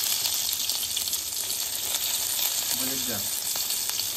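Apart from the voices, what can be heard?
onion frying in hot oil for tempering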